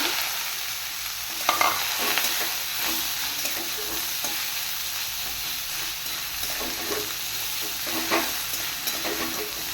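Steady, close sizzling of leafy greens frying with garlic in a pan, with occasional stirring scrapes and crackles throughout; no talking.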